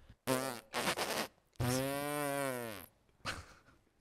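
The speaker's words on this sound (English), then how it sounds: "Fart noises in electric cars." Comic fart noises stand in for an electric car's warning sound: several short buzzy blasts, then one long wavering raspy toot that trails off, then a faint last puff, loud and close.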